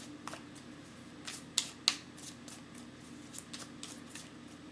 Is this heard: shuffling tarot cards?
yes